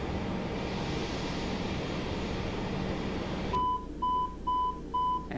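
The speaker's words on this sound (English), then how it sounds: "And there's the door alarm." A door alarm at the jetway in Microsoft Flight Simulator sounds a series of four evenly spaced electronic beeps after a steady aircraft cabin hum cuts off.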